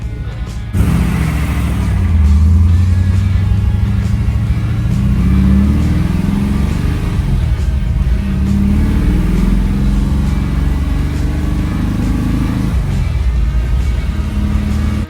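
A 1955 Chevy with a big block 427 V8, four-speed, tunnel ram intake and solid lifter cam drives on the street, its loud deep engine revving and rising through gears, close and without talk.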